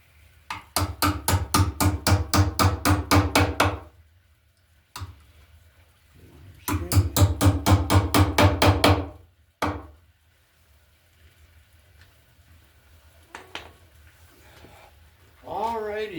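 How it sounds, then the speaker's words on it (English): Someone nails an electrical box in place for a receptacle wiring job: two rapid runs of about ten sharp hammer blows each, separated by a pause, then quiet handling, with a brief voice at the end. "So we'll start with nailing our box up here."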